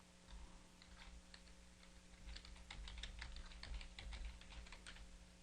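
Rapid typing on a computer keyboard while entering text in a word processor, a steady stream of quiet, crisp key clicks with uneven rhythm and no voices.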